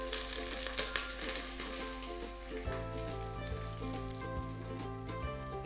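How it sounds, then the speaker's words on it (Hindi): Close, continuous sizzling and spattering of tomatoes frying in tempering oil, with a low hum joining partway through; no one speaks. "हमारा जो तड़का है वो पक रहा है। टमाटर हमने डाल दिए थे इसमें।"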